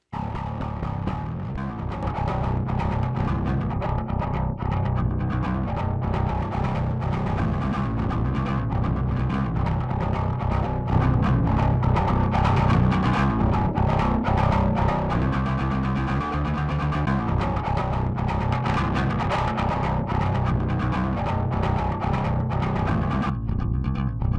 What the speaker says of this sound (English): I just really like the type of distortion that it has, especially with this boost here